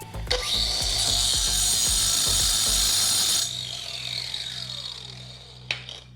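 A power tool grinds through half-inch thick steel with a loud, continuous abrasive roar for about three seconds. It then cuts out and the sound winds down with a falling whine. A faint clunk follows near the end.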